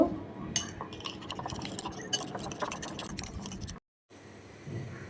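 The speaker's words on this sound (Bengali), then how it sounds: "এখন সবজিগুলোর সাথে ডিমগুলো ভালো করে মিশিয়ে নিব" Eggs stirred into vegetables in a pan, a dense run of quick metallic clinks and scrapes of utensil against pan, close and busy, breaking off briefly to near silence before resuming softly.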